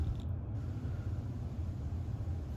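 A plastic purge valve piece on a Bottoms Up empty keg detector is unscrewed, producing a low continuous grinding creak of threads turning, steady and close against a faint background hum.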